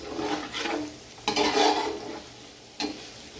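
Pieces of lamb brown in a pan for lamb pulao, sizzling softly while a utensil scrapes and stirs in a few short bursts.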